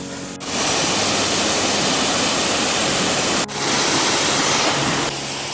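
Steady rushing and splashing of a small mountain stream in dense Daba Mountains forest after rain, loud and close, continuous broadband water noise with two brief dropouts.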